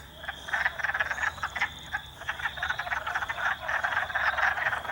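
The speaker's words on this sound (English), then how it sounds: "Wood frogs." A dense chorus of wood frogs croaking in rapid, overlapping clucks in a marsh, steady and fairly close, with no voices.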